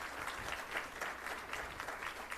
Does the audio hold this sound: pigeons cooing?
no